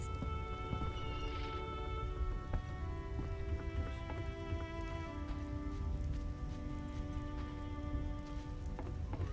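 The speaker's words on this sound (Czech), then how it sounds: "Už by mohlo přestat pršet." Steady rain patters in the slums of a video game's temple quarter, a faint, even hiss with soft drops and sustained background music tones.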